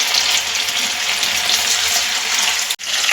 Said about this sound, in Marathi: हे दहा ते पंधरा मिनटं मंद आचेवर व्यवस्थित फ्राय करून घेतो कारण ते व्यवस्थित क्रिस्पी झाले पाहिजे